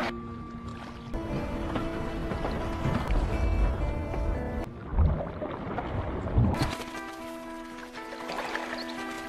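Kayak paddled along a river, with a steady wash of moving water and boat noise throughout, broken by a few louder splashes and knocks; no voices.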